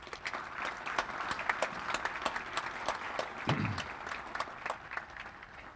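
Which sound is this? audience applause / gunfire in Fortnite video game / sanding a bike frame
audience applause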